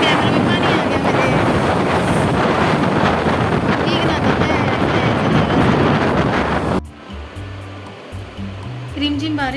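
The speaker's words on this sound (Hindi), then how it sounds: "रिमझिम बारिश में कैमरे में पानी आ गया मेरे," Light drizzling rain with wind, heard as loud continuous rushing and buffeting close to the microphone. It cuts off abruptly partway through, and a person speaks near the end.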